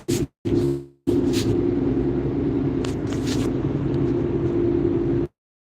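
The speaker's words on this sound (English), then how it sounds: "Driving right now." A car drives on a highway at speed with a loud, steady engine and road rumble after a few short choppy bursts, cutting off abruptly at the end.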